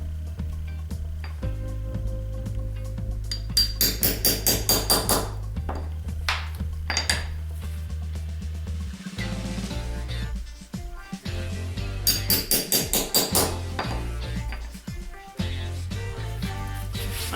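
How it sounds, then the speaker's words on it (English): A hammer drives a hole punch through material for a homemade archery arm brace: sharp metallic strikes in quick rhythmic bursts, loud and close, separated by pauses and handling clatter over a steady low hum. "I'm gonna punch some holes"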